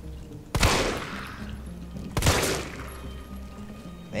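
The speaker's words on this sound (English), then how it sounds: "every time you shoot him" Two loud gunshots in the Resident Evil 3 Remake video game, about a second and a half apart, each a sharp broadband blast with a trailing echoing tail over a steady low game ambience.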